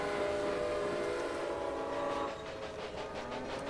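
A train rolls along the tracks in the railway-building video game Railway Empire, a steady mechanical rumble with sustained horn-like tones that drop slightly in level partway through, heard alone without talk.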